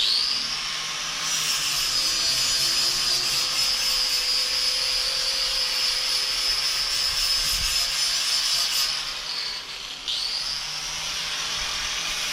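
Insulation is stripped from golf cart chassis metal before welding, giving a loud, steady high-pitched power-tool whine with abrasive rubbing that runs continuously, dips briefly near the end and then resumes.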